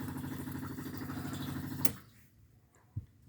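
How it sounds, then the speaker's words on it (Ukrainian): A car's electric fuel pump hums steadily for about two seconds after the ignition is switched on, then cuts off, followed by a single faint click. "От насос загудів."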